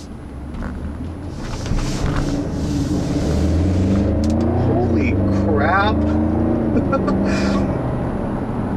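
A 2011 BMW X6 xDrive50i accelerates hard, its engine note rising steadily and loudly inside the cabin, with an excited exclamation from an occupant over the roar.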